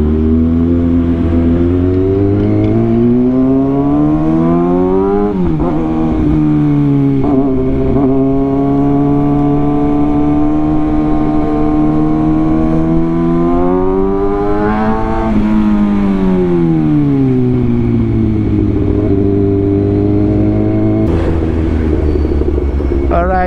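A 2022 Kawasaki ZX6R with a service code fault idles and revs slowly in traffic, a loud, close engine drone whose pitch rises and falls repeatedly, with jerky throttle changes throughout.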